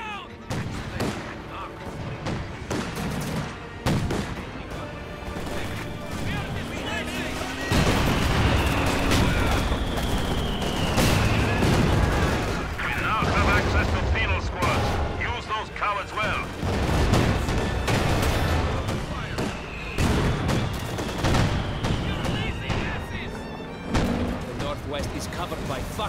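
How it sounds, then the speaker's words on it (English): 88mm anti-tank guns fire in Company of Heroes 2 battle chaos, with repeated heavy booms and sharp cracks scattered across the clip amid constant combat noise, while voices shout over the fighting. "Covered by fucking 88mm anti-tank guns!"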